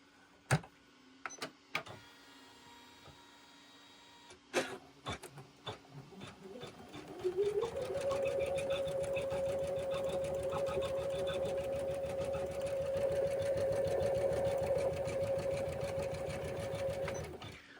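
An embroidery sewing machine stitches white thread. A few clicks and taps open the clip, then the machine starts up into a steady, fast, whirring hum with a rhythmic needle chatter that runs to the end.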